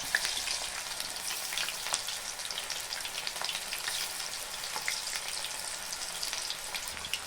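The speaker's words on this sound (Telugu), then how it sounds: "కాకరకాయ ముక్కలను ఆ విధంగా ఆ నూనెలో వేసి ద్వారా వేయించుకోవాలి" Battered bitter gourd pakoda pieces fry in hot oil with a dense, steady crackling sizzle and scattered pops, moderately quiet and close, with no talking.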